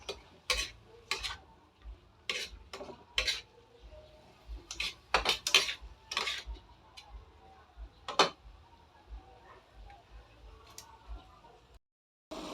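A spoon scrapes and clinks against a pan while sautéed Baguio beans with meat are stirred. The taps come irregular and sharp, close up, with quiet pauses between them.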